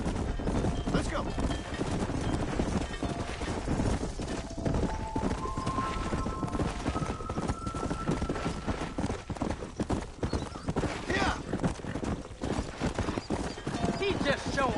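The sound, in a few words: horse galloping in Red Dead Redemption video game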